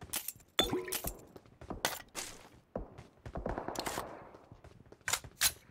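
Gunfire in the battle royale game PUBG comes as sharp, loud cracks in scattered bursts, with some rapid clusters and glassy rattles between shots and short quiet gaps.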